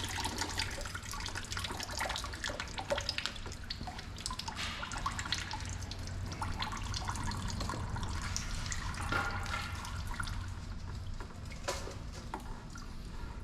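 Coolant drains and drips steadily from a Chevy 5.3 V8 being torn down out of a Suburban, a continuous close trickle of liquid with scattered drops throughout.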